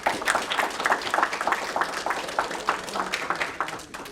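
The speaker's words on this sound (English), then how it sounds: "So if we could give a round of applause for Jacob." A crowd at a summer youth mentoring program event claps in steady, scattered applause at moderate volume that fades toward the end.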